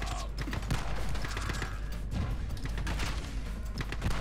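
Rapid gunfire from a gun in the shooter The Club, set in prison cells, crackling in quick continuous bursts that stay loud and close throughout.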